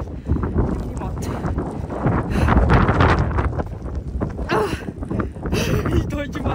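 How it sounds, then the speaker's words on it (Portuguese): Strong wind roaring into the microphone while riding a motorbike through a snowstorm, loud, gusty buffeting and rumble with a voice speaking over it. "Ah, tempestade de neve."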